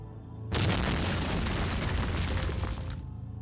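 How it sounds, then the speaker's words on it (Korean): A house blowing up in a horror radio drama: a sudden heavy boom that bursts in loud and close, then a dense roar of blast and debris that holds for about two and a half seconds before cutting off. "집이 순식간에 폭발하고 말았다."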